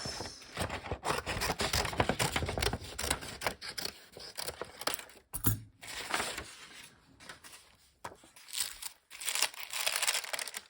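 Scissors cut a piece from a Tyvek sheet painted with acrylic paint, giving close, crisp crinkling and snipping with rustling handling noise and brief pauses between cuts.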